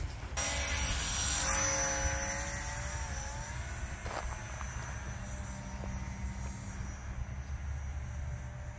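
A HobbyZone P-51D Mustang RC model plane flies overhead, its small motor giving a thin, distant buzzing whine that swells and slides in pitch as it passes, then fades to a fainter drone.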